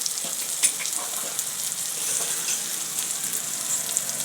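Onion and tomato frying with garam masala, turmeric and garlic chutney in a pan, a steady soft sizzle throughout with a few faint scrapes, no talking.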